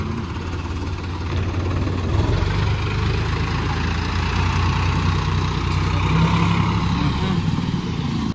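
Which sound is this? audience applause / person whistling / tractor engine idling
tractor engine idling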